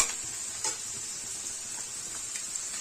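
Onions with rock salt sauté lightly in a pan for an onion egg fry, giving a steady close sizzle with a few soft stirring knocks and no speech.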